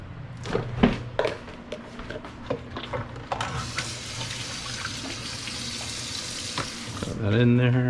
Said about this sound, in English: so I'm gonna go ahead and wash this out